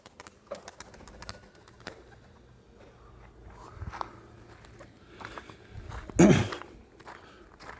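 Tumbler pigeons are being flown outdoors, with soft bird sounds, light footsteps and scattered knocks. Quiet and sparse, with one louder burst of fluttering or flapping near the end.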